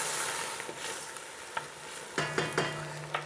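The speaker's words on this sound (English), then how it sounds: "Let me add some wine just to kind of loosen up all those little bits and pieces." Wine poured into a hot pan of pork ribs sizzles as it deglazes, a steady close hiss broken by sharp crackles and scraping stir sounds, with no talking.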